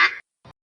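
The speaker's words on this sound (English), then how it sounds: "Duck." A duck quacks twice: a brighter, raspy quack followed after a short pause by a quieter, lower one, both brief and close.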